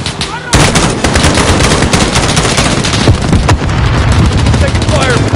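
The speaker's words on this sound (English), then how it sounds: "Taking fire from the residence." Dense gunfire from the Call of Duty: Modern Warfare video game, with rapid machine-gun bursts and scattered single shots. It is loud and nearly continuous throughout, and voices are mixed in.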